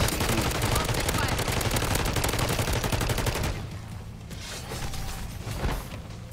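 A sentry turret in the zombie video game MWZ fires rapid automatic bursts of close, loud gunfire. The bursts stop after a few seconds, leaving scattered quieter shots and game noise.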